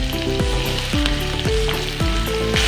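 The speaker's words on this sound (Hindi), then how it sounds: "लहसुन ब्राउन हो चुका है, प्याज ऐड कर देंगे" Sliced onions hit hot oil in a pan where garlic has already browned, giving a loud, steady sizzle with crackling bursts and a few stirring scrapes, no voices.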